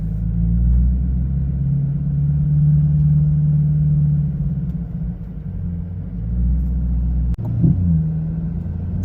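A C8 Corvette's engine rumbles steadily from inside the cabin during a drive, with a brief dip and swell around a gear shift near the end; no one speaks.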